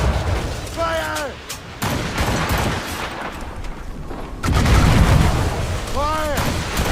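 Naval cannons fire in the video game Assassin's Creed Rogue, giving several sharp booming blasts over rumbling battle noise. Voices shout orders between the shots.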